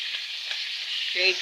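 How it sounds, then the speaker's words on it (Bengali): Pangas fish fries in hot oil with a steady close sizzle, and a brief sharp pop or clink near the end. "দেখতে পাচ্ছেন কিভাবে ফুটছে"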